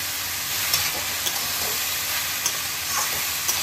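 Ash gourd sautés in a pan with turmeric, Kashmiri chili powder, salt and a green chili, a continuous frying hiss broken by several sharp taps of a spatula stirring.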